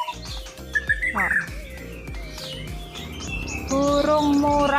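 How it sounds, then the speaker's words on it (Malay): An oriental magpie-robin sings near a house, with bright whistled phrases and chirps that grow louder and more melodic toward the end, heard over a busy background of other noise. "Burung murai."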